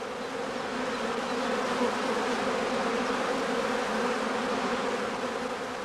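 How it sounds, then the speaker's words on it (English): A swarm of honeybees clustered in a swarm catcher bag hums as a dense, steady, loud drone throughout, with no other sounds. "As soon as the bees have contracted to a dense cluster at the top of the swarm catcher"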